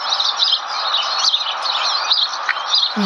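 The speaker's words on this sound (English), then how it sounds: "very loud bird song" A loud, continuous chorus of birdsong at Leybourne Lakes, many overlapping chirps and trills filling the air close by, with no talking.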